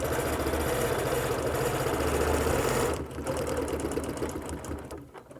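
Close sewing machine stitching straight lines on a quilt, a fast, even mechanical whir that changes pitch briefly near the middle and then runs on before slowing to a stop at the end.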